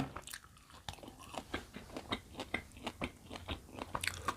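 Dried fruit from a mixed healthy assortment is bitten and chewed close up, with a steady run of crisp crunches and wet chewing at an irregular rhythm and no talking.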